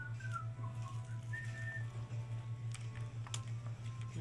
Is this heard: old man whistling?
yes